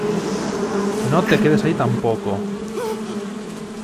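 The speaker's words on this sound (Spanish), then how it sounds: "No dispares a las avispas." Hornets from Metal Gear Solid 3 swarm with a steady close buzz that stays loud throughout, layered under game music and someone speaking in Spanish.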